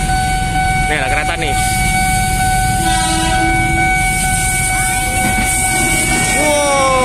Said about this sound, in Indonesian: Wow, keretanya lewat dengan JN205.